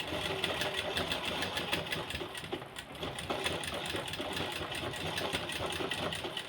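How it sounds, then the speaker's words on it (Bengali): A sewing machine stitches a churidar with a steady, fast mechanical whirr and rapid needle clatter. It runs close and continuously throughout with no talking. "এখন চুড়িদারটা আমি সেলাই করতে চলে এসেছি।"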